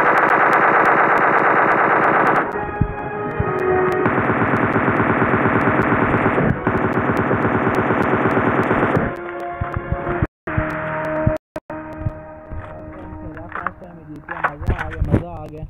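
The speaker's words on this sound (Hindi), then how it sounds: "तो सारी फायरिंग इधर ही कर" Loud, sustained automatic gunfire from the video game PUBG on the Sanhok map, rapid bursts with distortion and echo, breaking into choppier shots toward the end.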